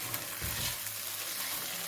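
Onion fries and gets stirred in a jambalaya pot, a steady close sizzle with scraping strokes of a spoon against the pot and no one speaking.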